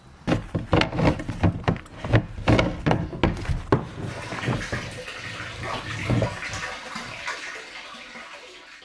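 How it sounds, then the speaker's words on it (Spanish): Water runs slowly into a storage tank that shares its supply with several other tanks. It makes a steady rushing, splashing wash, with a string of knocks and thuds at the start that fade into a continuous flow. "tenemos agua llenando este depósito muy lentamente porque esta agua está llenando varios depósitos al mismo tiempo"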